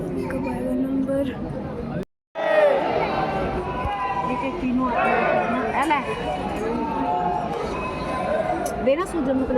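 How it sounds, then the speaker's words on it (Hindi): A large crowd gathers at a temple, with constant babble, shuffling and movement close around, and a brief dropout early on; a person talks over the noise. "गाइस भीड़ बहुत है, पता नहीं कब आएगा नंबर।"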